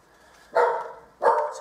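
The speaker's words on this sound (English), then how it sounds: "Sorry, my dogs have just gone crazy." Two dogs bark indoors, two loud, sharp barks about half a second apart, each tailing off, with near silence in between.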